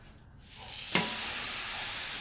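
T-bone steaks seasoned with salt, pepper and garlic powder hit a hot Camp Chef FTG600 griddle at about 525 degrees, bursting into a loud, close sizzle that holds steady.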